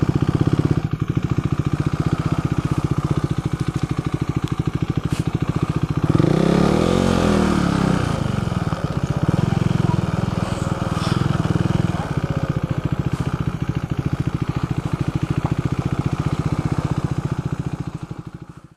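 A motorcycle engine idles steadily at a roadside viewpoint on the Western Ghats while the rider parks, with a brief throttle rise midway before settling back into a constant close putter.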